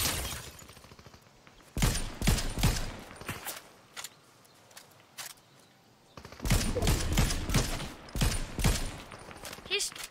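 Bursts of rapid gunfire in Fortnite Zero Build crack in clusters, loud and close, with quieter gaps of ambient noise between volleys.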